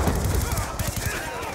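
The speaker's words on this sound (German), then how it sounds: "durch die Wände kann man schießen" Gunfire in the video game Call of Duty: Black Ops 2, a dense loud burst of rapid shots and thuds mixed with game noise throughout.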